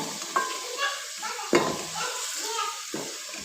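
Masala frying in a pan as it is stirred, soft sizzling with scraping strokes of a spoon against metal, including a few sharper clanks, close and moderately quiet.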